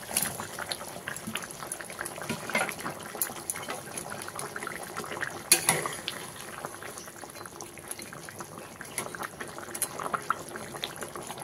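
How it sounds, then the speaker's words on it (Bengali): Fish curry gravy at a steady boil in a pan, with continuous bubbling and popping and a few louder bursts, close and fairly quiet, no voices. "ঝোলটা আমার সুন্দর ফুটে গেছে"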